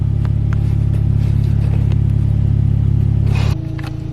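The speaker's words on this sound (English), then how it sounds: "a little itty bitty cold start" A VW Passat engine idles steadily after a cold start, a loud, even low rumble with a faint ticking, then drops to a lower, quieter idle near the end.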